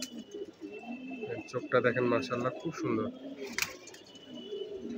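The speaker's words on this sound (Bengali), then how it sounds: "অনেক কড়া কবুতর দেখেন" Pigeons with sharp, striking eyes coo in low, rolling bursts close by, while someone talks over them through most of the stretch.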